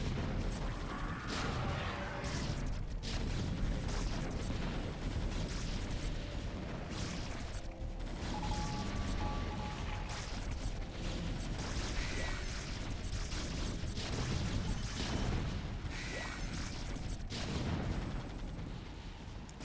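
Siege tank artillery fire in StarCraft: Brood War, dense booming blasts and rumbling explosions layered continuously over a busy battle din, with no pauses throughout.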